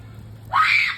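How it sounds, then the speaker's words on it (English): A girl lets out a sudden high scream at a bug, starting about halfway in and holding steady to the end over a low background hum. "Why are you screaming?"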